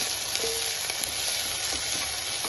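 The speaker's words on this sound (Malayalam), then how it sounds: "വെളുത്തുള്ളി നല്ല ജീരകം കൂടെ ചതച്ചത് ഇട്ട് കൊടുക്കാം അത് അവിടെ കിടന്ന് നല്ലതൊന്ന് ഒന്ന് വഴന്ന്" Crushed garlic and cumin frying in hot oil for a simple rasam produce a bright, dense, continuous sizzle with faint stirring ticks, loud and close, with no voices.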